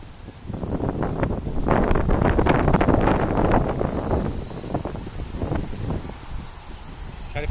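Strong gusty wind buffeting the microphone outdoors near treetops, roaring loudest in the middle and easing toward the end, with rustling underneath and no speech.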